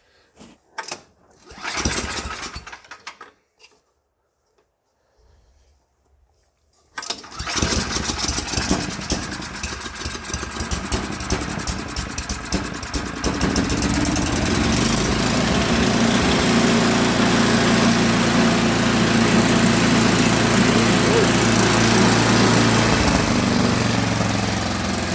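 Snow blower engine cranked with choke on after long storage: a few brief pulls and sputters, a pause, then the small engine catches and settles into a loud, steady running drone that continues to the end.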